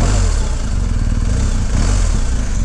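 Harley-Davidson Pan America motorcycle engine running steadily while off-roading, a loud, close, continuous mid-pitched drone with slight rises in revs and no voices.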